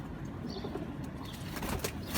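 A male Heeno breed pigeon, heard close up for a couple of seconds, gives soft cooing and brief wing flutters amid low background rustle.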